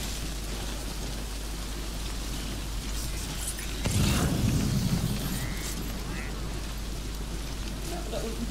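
Constant rain hiss in the video game Death Stranding, with a brief louder low rumble near the middle, steady and moderately faint throughout.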